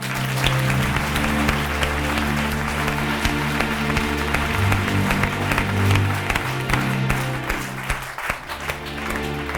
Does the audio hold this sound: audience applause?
yes